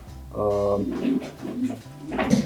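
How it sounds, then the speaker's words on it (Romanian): Pigeon cooing from a pigeon up for auction, a few soft low coos close by, with people talking over and around them. "un porumbel, da, pe placul meu, un porumbel de general"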